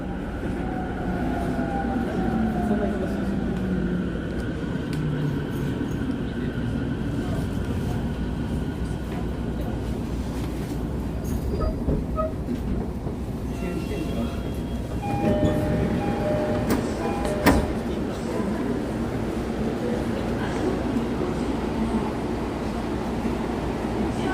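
Subway train on a Tokyo metro line pulling into Nishi-Kasai station, a steady rumble and rolling clatter with squealing wheels and scattered metallic clicks as it slows, loud and continuous throughout.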